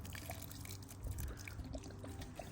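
Enchanted Worm Brew is poured into a biochar mix with worm castings, giving a faint, close trickling pour of liquid that runs unevenly and alone for a couple of seconds.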